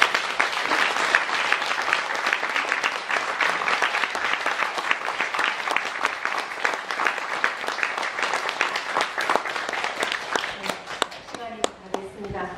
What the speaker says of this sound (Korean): 우리 모두가 경의를 표하는 마음의 박수를 다시 한번